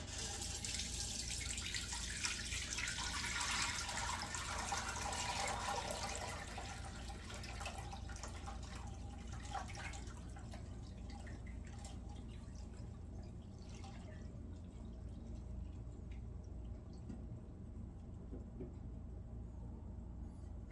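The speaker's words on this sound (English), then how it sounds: "Let's get this strained into our pot." Cowboy candy syrup pours and trickles through a strainer into a pot, a steady watery splashing that is loudest early on and then settles into softer dripping.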